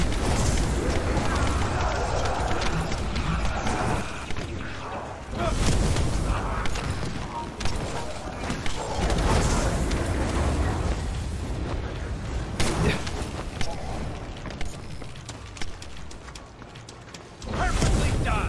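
Bombs exploding in a video game on the Axion Plains, heavy booms landing in bursts amid continuous loud rumbling and debris noise, with fresh blasts hitting around the middle and again near the end.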